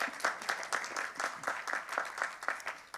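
A small audience at a press conference claps briefly, a light, scattered patter of hands heard from a distance at low volume for about three seconds.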